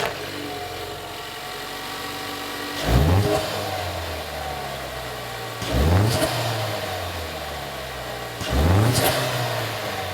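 A Ford Mustang EcoBoost turbo engine fitted with an Airaid cold air intake idles, then revs sharply three times at even intervals, each blip rising and falling back to a steady idle, close and loud with no talking.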